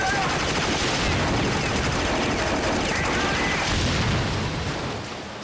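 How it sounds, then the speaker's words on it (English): Dense gunfire and a heavy rocket-grenade impact from the Wii rail shooter Heavy Fire: Special Operations, a continuous loud barrage of rapid shots and blasts that tapers off slightly near the end, with no talk. "So I've just been hit by an RPG."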